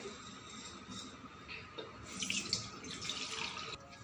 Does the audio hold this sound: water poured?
yes